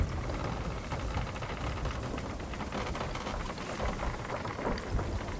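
Steady rain falls in a stormy scene in a pirate video game, with a dense continuous hiss of rainfall and a low rumbling undertone, even and moderately quiet throughout.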